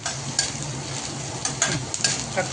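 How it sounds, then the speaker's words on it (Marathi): Onion frying in a pan with green chili and garlic for a bhendi bhaji, giving a steady close sizzle with a few brief stirring scrapes and clicks, no voices. "कांदा टाकून घ्यायचा आणि कांदा चांगला लाल होऊ द्यायचा, फ्राय होऊ द्यायचा"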